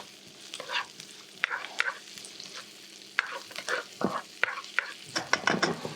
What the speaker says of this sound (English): We're going to pop in some garlic and some ginger, some onion, and we're just going to saute that off.